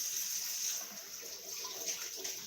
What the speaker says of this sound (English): I'm going to rinse these mushrooms off.